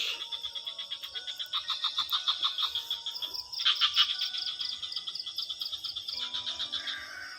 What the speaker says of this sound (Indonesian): Loh, burungnya udah mau bunyi.